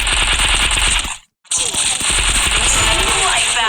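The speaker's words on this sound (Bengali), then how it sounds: "পেছন দিক দিয়ে কে গুলি চালাচ্ছে?" Free Fire video game gunfire, rapid automatic bursts close and loud, cut by a brief silent gap and then resuming with continuous shots and clatter, with speech underneath.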